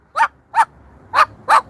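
A Moluccan cockatoo mimics a dog's bark in four sharp, evenly spaced barks, loud and close, with quiet gaps between and no talking.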